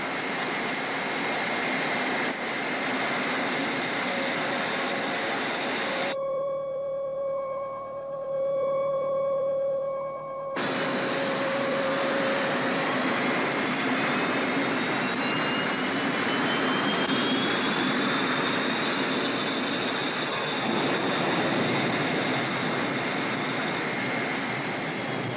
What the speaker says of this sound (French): Le vaisseau s'en va! Il emmène le rocher avec lui.